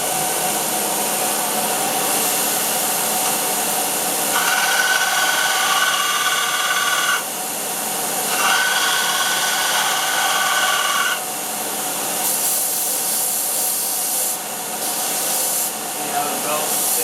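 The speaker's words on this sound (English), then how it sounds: "See how the belt stays right on the wheel with that adjustable tension on it." Delta belt sander grinder running smoothly with an adjustable-tension belt, giving a steady broadband whirring hiss that shifts slightly in tone as work is pressed against it, with faint talk underneath.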